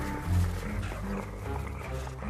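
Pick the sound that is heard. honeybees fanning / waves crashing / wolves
wolves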